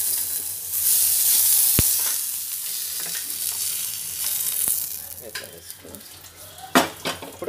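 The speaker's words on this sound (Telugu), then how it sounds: "ఇప్పుడు కొబ్బరి వేయించు." Coconut frying in a pan, a close crackling sizzle with sharp metallic clinks of a utensil against the pan and stirring scrapes, the frying fading somewhat toward the end.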